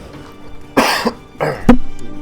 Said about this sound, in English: you will have to deal with the occasional cough from me